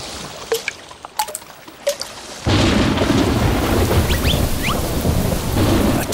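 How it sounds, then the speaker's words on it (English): Scattered drips and a few rumbles give way to a sudden loud downpour, with heavy rain hissing steadily and thunder rolling underneath. "The clouds gather and the rain beats down."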